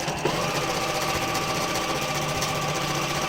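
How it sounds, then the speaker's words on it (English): A sewing machine hums and clatters in a steady rapid rhythm while straight stitching a fabric face mask, running close and uninterrupted throughout. "Now all we're going to do is we're going to straight stitch down."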